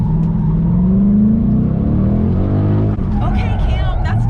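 Stock Ford Mustang GT with a manual gearbox revving hard, a loud sustained engine roar with a rising then falling pitch, while people talk over it.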